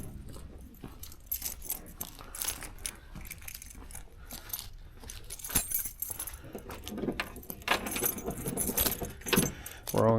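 Car keys for a 1987 Buick Grand National jangle and clink repeatedly at close range for several seconds, with irregular bursts of metallic rattling as they are handled.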